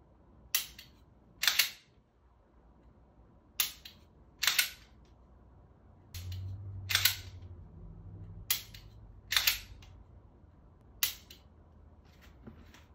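Nine sharp, dry trigger clicks from a pistol with a laser training cartridge, spaced about a second apart in an irregular rhythm, close and isolated against a quiet room.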